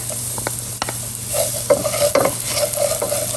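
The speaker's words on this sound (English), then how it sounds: "I'm gonna add the garlic." Garlic tossed into a pan of soft, well-cooked onions, stirred with a few sharp scrapes and knocks over a steady close sizzle, no voices.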